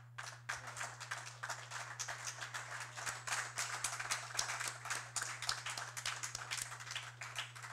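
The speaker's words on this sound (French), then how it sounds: "merci à vous, cher public, d'avoir applaudi Néhémie pour sa présentation" Audience applause at a philosophy café event in Haiti after a short presentation: dense, steady clapping from many hands for the whole stretch, moderately loud, over a constant low electrical hum.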